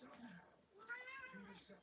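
A house cat gives a short, faint meow or two, quiet against a soft room background.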